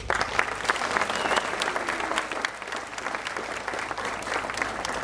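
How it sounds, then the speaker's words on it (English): Sustained applause from a crowd at a Relay for Life charity event, dense steady clapping at moderate distance without pause for about five seconds. "Give yourselves a huge round of applause."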